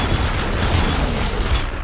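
A blood cannon fires in Nuclear Throne during co-op play, a dense, loud rumble of booming blasts that runs without a break.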